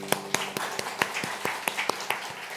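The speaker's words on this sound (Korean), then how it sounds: "우리 하나님 앞에 영광의 박수 올립니다" A church congregation at a Korean Sunday worship service claps in praise, with a scattered, quiet patter of separate hand claps at an uneven rhythm, heard from a little distance.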